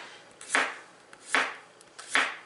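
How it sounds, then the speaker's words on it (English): A knife slices zucchini on a cutting board in three evenly spaced, crisp cuts, each a short swishing chop, close and clear with no speech. "And I'm gonna cut my zucchini slices here."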